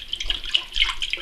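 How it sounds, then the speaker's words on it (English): Water poured from a cup into an empty water softener filter housing, a brief bright splashing trickle lasting about a second, close and alone. "what I like to do is I just pour some water in from a cup that I got earlier"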